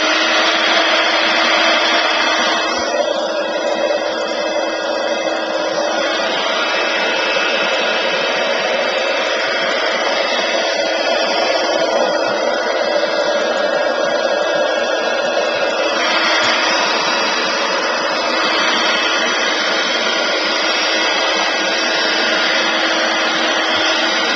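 A handheld dryer blows steadily on wet gesso coating a craft gift box, a loud continuous whirring hiss held close for the whole stretch with only slight shifts in tone.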